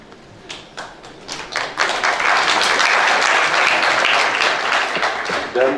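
An audience at a conference breaks into applause following a welcome greeting, starting with scattered claps that swell into a dense, sustained ovation from a large crowd.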